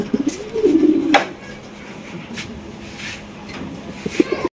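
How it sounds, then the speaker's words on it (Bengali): Big racer pigeons coo nearby, with one clear throaty coo early on followed by quieter bird sounds and faint background noise. "দেখেন বিগ সাইজের রেসার কবুতর"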